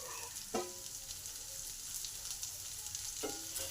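Chopped onion, ginger, beans, capsicum and carrot fry together in a pan with a steady, close crackling sizzle and a couple of short stirring clatters.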